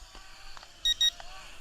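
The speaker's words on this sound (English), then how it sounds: "the beep on the controller is telling me the battery is low" A drone controller for an Attop X-Pack 10 mini drone gives two short, high electronic beeps as a low-battery warning, close and clear over quiet background noise.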